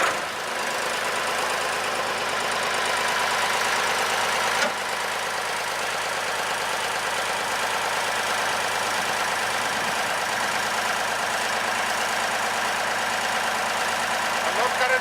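SAR100 drilling rig engine running at a steady idle, a continuous broadband mechanical drone with low rumble held at even loudness throughout, with a brief bump near the start.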